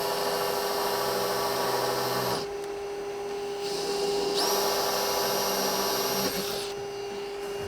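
Shop vacuum cleaner whining steadily at close range while drilling holes in a bass boat console tray, its tone dropping off and then surging back as it cycles.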